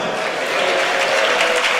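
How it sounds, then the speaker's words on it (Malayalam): A church congregation clapping hard together during a sermon, a loud sustained wash of applause filling the room from start to finish. "ഒന്നുകൂടെ ശക്തിയോടെ കൈയടിച്ച് സ്തോത്രം പറഞ്ഞു"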